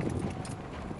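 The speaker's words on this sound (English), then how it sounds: "Now I'm cantering the horse again" Hooves beat in a quick, rolling rhythm as a horse canters bareback near a car, steady and moderately close.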